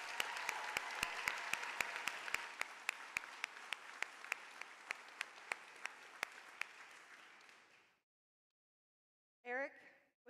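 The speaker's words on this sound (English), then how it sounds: "Yeah, I think that deserves a round of applause." A large audience at an FFA state convention applauds steadily with dense clapping and a few sharp individual claps standing out, fading out over several seconds into silence before a brief burst of another sound at the end.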